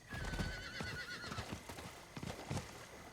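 Horse hooves clip-clop in Diablo IV, a steady run of sharp, fairly close strikes mixed with a whinny and other game sounds, with no talking.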